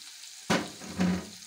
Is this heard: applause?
no